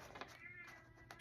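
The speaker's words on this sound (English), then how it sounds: "possibly hear my cat warning my dog to stay out of her space" A cat gives a drawn-out, moaning warning cry at a dog, low and tense. The cry is sustained and moderately faint against a quiet indoor background.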